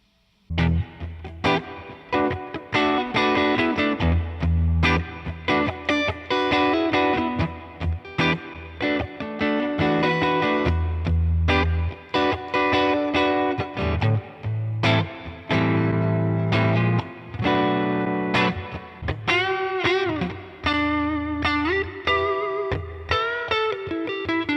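A Roland Blues Cube guitar amp on its clean channel carries loud, steady rhythm-guitar strumming, chords ringing and stopping in a continuous pattern with no talking.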